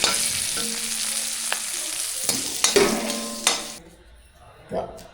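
Orange dosa cooking on a hot pan gives a steady sizzle with a few scraping stirs and clinks before fading to a quieter hiss near the end.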